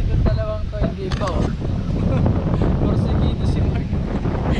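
Gusty wind buffets the microphone aboard a fishing boat at sea off Occidental Mindoro, a loud continuous roar with brief clatters and knocks, while a voice speaks briefly near the start.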